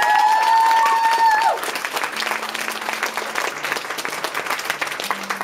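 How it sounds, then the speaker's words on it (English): Concert audience applauding for a singer in Hamburg, dense crowd clapping that swells in after a sustained tone fades and carries on steadily to the end. "A big round of applause for Alex."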